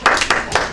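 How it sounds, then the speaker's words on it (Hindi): Three or four quick, close claps from an audience at a street food kheer eating challenge, cheering a contestant who has just finished. "ताली बजा दीजिए इनके लिए"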